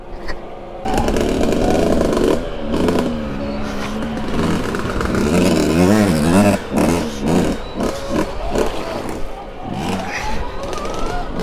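A Stark Varg Alpha electric dirt bike rides wooded, muddy trails, its motor whining and surging with rising and falling pitch sweeps, loud and close with knocks and rustle from the terrain.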